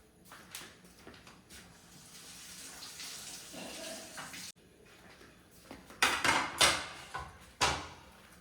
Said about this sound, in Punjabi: ਹੁਣ ਆਪਾਂ ਨਾ ਕੇਲੇ ਨੂੰ ਸੇਬ ਨੂੰ ਧੋ ਲਈਏ